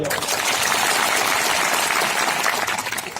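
An audience at a speech event breaks into steady, dense applause, loud and continuous throughout with no talk over it.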